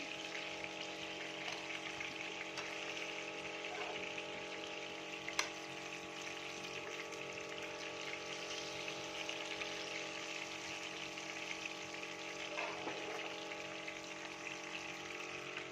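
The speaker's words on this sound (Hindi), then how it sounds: "कितनी ज़बरदस्त हमारी फ़िश फ्राई हो गई है" Fish fries steadily in a pan, a constant sizzling hiss with faint occasional clicks, moderately loud and uninterrupted.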